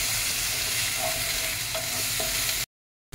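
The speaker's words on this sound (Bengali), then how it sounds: "এবার এটাকে একটু ভালো করে কষিয়ে নিতে হবে।" Potato chop spice mix with onion and garlic sizzles steadily in hot oil as a spoon stirs and scrapes the pan, loud and close, ending in a brief cut to silence.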